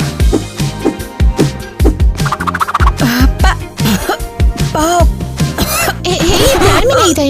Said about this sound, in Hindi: ये खांसी किस बात की है?